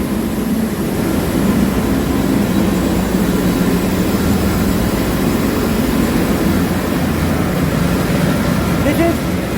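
A shipboard boiler fuel oil pump in the pump room runs while the boiler fires, giving a steady, dense machinery roar with a low hum and no break.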